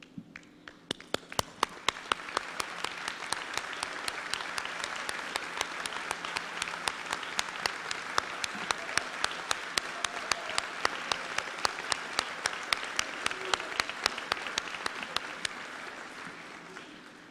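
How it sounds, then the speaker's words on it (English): Audience applause at a 2021 senior awards assembly, honoring graduating seniors who are joining the United States military: a large crowd claps steadily for about seventeen seconds, swelling in and slowly tapering at the end. "Please stand and allow us to thank you with our applause"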